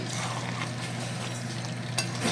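Mutton curry fries and is stirred in a pan during slow browning, a continuous close sizzle with soft scraping strokes and a sharper clatter of the spoon near the end.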